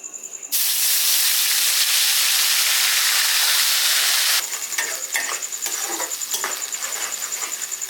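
Whole cumin and five-spice hitting hot oil burst into a loud, even hiss for several seconds, then the sizzle drops to a softer crackle with light stirring taps and a faint steady whine behind it.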